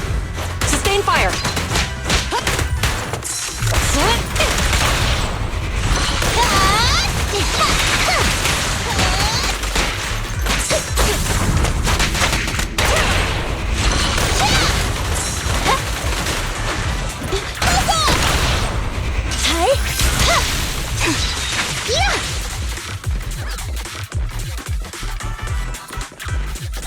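Sustained gunfire in Zenless Zone Zero, dense and loud throughout, with crashes, booms and thuds mixed into a continuous battle din while voices speak over it.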